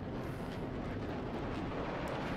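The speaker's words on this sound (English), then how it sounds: "As we just hear the planes go over this top." A dense, continuous roar of video game aircraft engines overhead at Le Mans during a GT endurance race, broad and rumbling with no break throughout.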